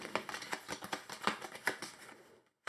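A deck of regular enemy cards for the Neon Hope board game is shuffled by hand, giving a quick, soft, rhythmic run of close ticking riffles that trails off into silence.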